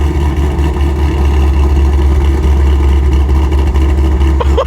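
A Shelby GT350 V8 with aftermarket cams idles loudly and close, a deep steady rumble with a slight lope, and a faint rise near the end.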